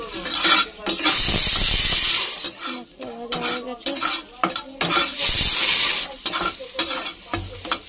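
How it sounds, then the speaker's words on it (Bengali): Cumin, dried chilli and bay leaf dry roasted in a wok, loud repeated metal spatula scrapes and clatters against the pan over a light sizzle and hiss, with brief talk between strokes. "শুকনো কড়াইয়ের মধ্যে এটাকে ভাজবো"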